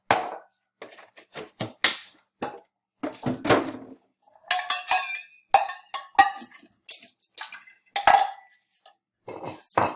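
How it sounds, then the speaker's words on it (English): Containers are rinsed and emptied in a kitchen-style setup, with scattered clinks and knocks of dishes and utensils, splashing and brief pours, irregular and close, with pauses between bursts. "Okay, rinsing them and emptying them out. Again, rinsing and emptying out."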